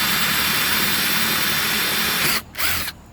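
A power drill fitted with a 1/2-inch bit bores holes in scrap wood for a jack-o-lantern, producing a loud, steady, close whine that cuts out briefly and then stops near the end.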